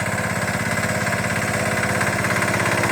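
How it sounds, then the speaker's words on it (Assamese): A homemade hand tractor built around a water-pump engine runs close by, a loud continuous thudding chug with a fast steady rhythm and no voices. "এইখন ঘৰত বনোৱা হেণ্ড ট্ৰেক্টৰ"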